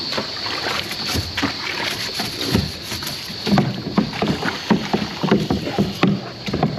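Water spills over the rim of a tilted cattle water trough on a farm whose ball valve is faulty, making a steady close splashing and trickling with scattered louder gurgles.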